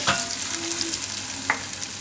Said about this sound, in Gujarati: તો કેરીને થોડીક વાર તેલમાં પાકવા દેવું.